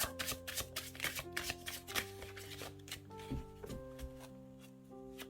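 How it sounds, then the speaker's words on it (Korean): Tarot cards are shuffled by hand in a quick run of crisp riffling slaps and snaps, close and quiet, while soft sustained music tones play underneath. "타로 카드를 좀 뽑아보도록 할게요"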